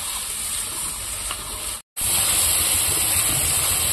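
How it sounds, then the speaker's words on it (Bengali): Spice paste with chilli fries in oil in a pan for a village-style tengra fish curry, giving a steady close sizzle that cuts out for a moment and then comes back loud. "এবার আমি 3 থেকে 4 মিনিট এই মশলাটা কষিয়ে নেব"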